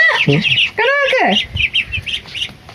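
Newly arrived domestic ducks give a few short, harsh calls close by, with a person talking softly among them.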